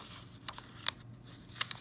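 A craft blade slices through paper cut-outs, giving a few soft, scattered snips and scratches at close range in a quiet room.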